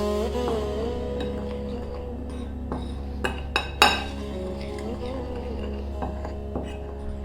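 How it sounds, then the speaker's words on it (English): A spoon stirs garam masala, nutmeg, chili, turmeric, cumin and coriander powders in a bowl, giving a few soft scrapes and sharp clinks against the rim, close and quiet over a low hum. "We're going to give that a little mix."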